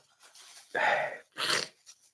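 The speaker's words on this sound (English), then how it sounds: "I keep sneezing." A man with a runny nose lets out a sharp, close sneeze followed by a second explosive burst with a breathy wheeze, each lasting about half a second in an otherwise quiet room.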